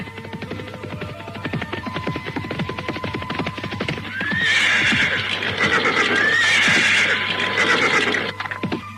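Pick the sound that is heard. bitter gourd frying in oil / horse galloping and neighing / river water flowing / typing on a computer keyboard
horse galloping and neighing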